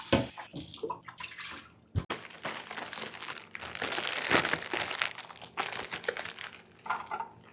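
Water filter being washed under running water, with splashing, crinkling handling noises and flowing water from a tap, close and fairly quiet.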